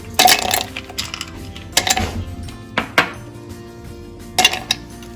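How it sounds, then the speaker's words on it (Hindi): Ice cubes drop into a mixer jar in several bursts, a few loud, close clattering rattles and clinks with short quiet gaps between them. "तो हम कुछ आइस क्यूब्स इसमें डालेंगे और इसको फेंट लेंगे।"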